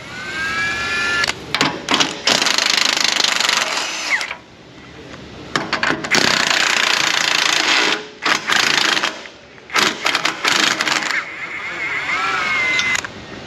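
A power tool whirs loudly in repeated bursts while removing the rear control arm bushing bolts on a Ford Explorer, each run of several seconds separated by brief pauses, close and dominant throughout.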